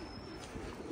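Pigeons cooing in a pigeon loft, a soft, low continuous coo running through one short second, close by and fairly quiet with no talk.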